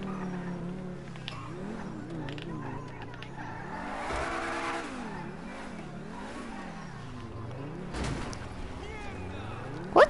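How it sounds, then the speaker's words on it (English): Revving from a car engine in GTA swells and dips in repeated waves, with a brief sharp burst near the end, running beneath people chatting. "I know y'all hear that engine"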